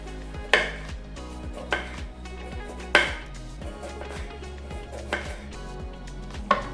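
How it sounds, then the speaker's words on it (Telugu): A knife chops bitter gourd into thin rings on a board. Several sharp, uneven thuds sound close up over soft background music, with no voices. "ఈ కాకరకాయల్ని మనము సన్న చక్రాలుగా కట్ చేసుకొని ఉంచుకోవాలి"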